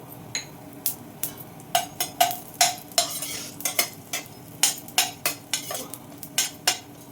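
A spoon scrapes and stirs lentils and coriander seeds in a pan in quick, irregular strokes over a faint, steady frying hiss, with no talking.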